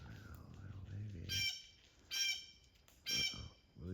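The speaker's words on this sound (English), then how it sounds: "Blue Jay's honking, squawking." A blue jay gives three loud, harsh squawks in a backyard wildlife setting, spaced about a second apart, over a faint low background murmur.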